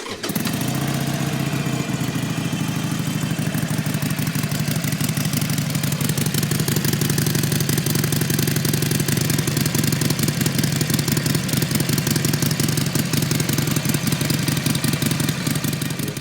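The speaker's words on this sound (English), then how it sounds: "And then you have the exhaust, the stock exhaust. Has a nice note to it." A 2021 Harley-Davidson Iron 883 motorcycle idles steadily with its stock exhaust, a low, even burble running continuously and close by with no talking.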